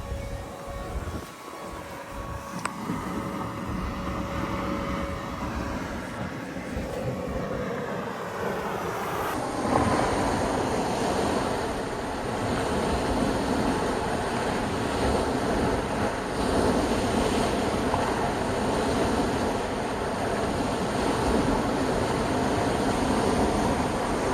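Steady rushing of calm sea water breaking against a moving ship's bow, with constant wind buffeting and a low engine drone underneath, continuous throughout.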